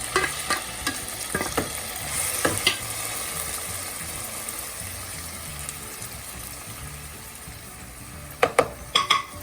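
Onion, tomato and salt sauté for paneer bhurji with a continuous close sizzle and sporadic spoon scrapes that cluster into a louder burst of stirring near the end. No one speaks.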